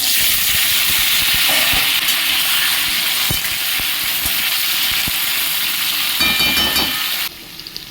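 Cut potatoes go into hot oil with radhuni, panch phoron, dried red chillies and bay leaves, setting off a loud, steady frying sizzle with occasional sharp crackles that drops away abruptly near the end.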